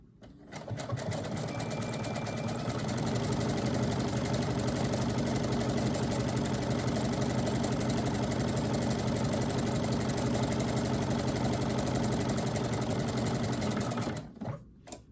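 A sewing machine stitches an armhole in one steady, continuous run lasting around thirteen seconds, a close, even mechanical hum with rapid needle rhythm, starting and stopping abruptly.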